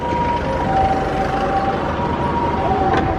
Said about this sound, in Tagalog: May ano, may ambulansya.